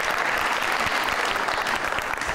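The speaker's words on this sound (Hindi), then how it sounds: "तालियां" Studio audience applauding at a Hindi-language celebrity talk show, a steady, dense wash of clapping that fills the whole stretch without a break.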